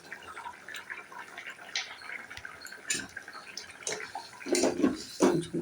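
Thin fish curry with potato and papaya bubbling in a pot, soft irregular bubbling and plopping close by, growing a little louder toward the end, no talking.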